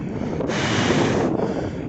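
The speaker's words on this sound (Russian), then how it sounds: "ветер все равно дует" Strong wind sweeps across a frozen uninhabited island at minus forty degrees, a loud, steady broadband roar that swells in a gust midway, with no one speaking.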